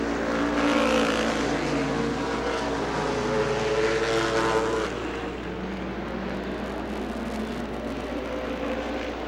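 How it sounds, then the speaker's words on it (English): Race cars at Rockford Speedway roar off together at the start of a race, a loud, dense, sustained engine drone that swells in the first half and then settles slightly, with no talk over it. "Green flag, and we're racing."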